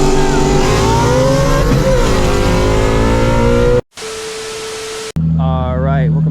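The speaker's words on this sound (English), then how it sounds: "we're gonna get some runs in with the Shelby GT350 on the 110mm pulley" A supercharged Shelby GT350 Mustang on a 110mm pulley roars loudly on a hard run, with the engine rising steadily through the revs. The sound then cuts away to a steady drone and a sharp whine.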